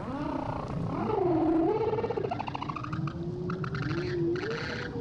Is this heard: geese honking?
no